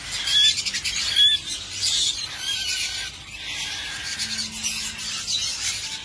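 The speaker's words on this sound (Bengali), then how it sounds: "এখানেও রিংনেক দেখতে পাচ্ছি, কোকাটেলের বেবি দেখতে পাচ্ছি অনেক" Many caged birds, including ringnecks and cockatiel babies, squawk and chirp at a Bangkok bird market, a dense overlapping chorus of shrill calls and squeals that comes close and loud, then eases into a softer continuous chatter.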